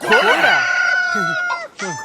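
A rooster crows loudly and close by, one long drawn-out call followed by a few shorter clucking notes.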